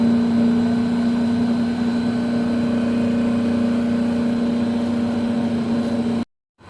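MBraun MB 200MOD glove box antechamber pulling vacuum: a steady, loud pump hum with a strong constant tone, running evenly before cutting off abruptly at the end.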